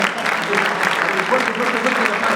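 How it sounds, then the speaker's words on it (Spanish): Audience applause at a conference, steady and dense for a couple of seconds, with voices faintly mixed underneath. "Fuerte aplauso."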